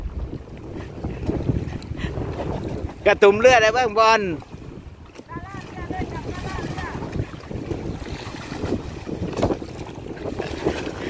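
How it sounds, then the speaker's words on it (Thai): Steady wind roars across the microphone over choppy, rough waves while kayaking on Songkhla Lake, Thailand, as someone talks and a high-pitched voice briefly calls out. "วันนี้ก็ คลื่นแรงหน่อย เดี๋ยวเราไปหลบ ลมกันข้างในนะครับ"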